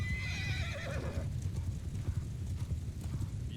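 Cavalry horses charge into battle in the samurai video game Shokuho, with rapid hoofbeats pounding steadily and loud whinnying that fades after the first second.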